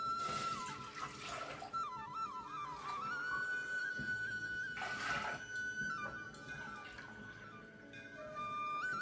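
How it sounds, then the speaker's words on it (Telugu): Four glasses of water are poured into a cooking pot in a home kitchen while making ragi mudda, heard as a few splashing pours over a steady background tone, without talk. "ఇప్పుడు ఈ పాత్రలో వచ్చేసి నేను 4 గ్లాసులు వాటర్ పోసుకుంటున్నానండి."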